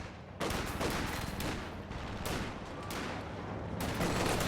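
MG34 machine gun firing in the Company of Heroes video game, dense rapid bursts of automatic fire that run almost continuously with brief gaps, loud and close over a busy battle mix.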